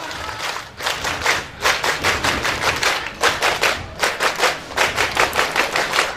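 Students do the scout clap (tepuk pramuka) at a school farewell gathering, a loud, rhythmic pattern of unison claps in regular bursts with short pauses between groups.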